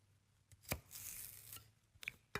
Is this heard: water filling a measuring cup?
no